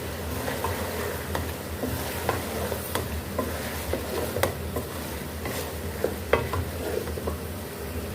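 Green chillies and onion are stirred into bhindi chicken in a pan, with a steady low sizzle and frequent light clicks and scrapes of a spoon against the pan throughout.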